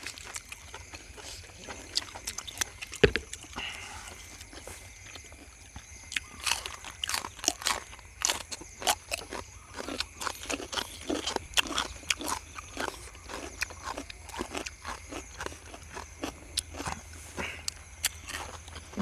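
Someone chews crunchy blanched pork intestine and cuttlefish with spicy seafood dipping sauce close to the microphone, making irregular bursts of crisp bites and crunches over a low, steady background hum.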